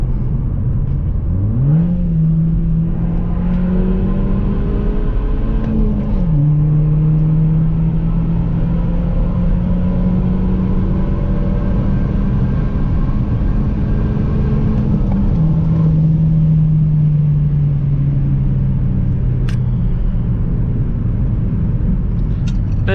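A car engine drives along an open road, its steady hum rising in pitch through repeated acceleration with audible gear shifts, loud and close throughout, with no talking.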